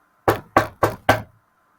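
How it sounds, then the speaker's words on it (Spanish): Four firm, evenly spaced knocks land on a wooden cabin door, loud and close, with silence before and after. "Tocó la puerta."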